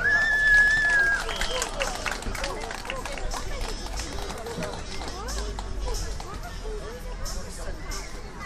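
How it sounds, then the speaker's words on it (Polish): Audience applause at a children's karate show at a housing cooperative's Children's Day event, sustained clapping and crowd babble with a whistle near the start and a host speaking over it. "I brawa, brawa, brawa!"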